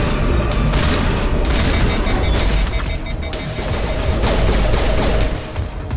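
Sustained, dense gunfire and heavy impact booms in a Mass Effect firefight, a loud continuous barrage with overlapping crashes and no talking.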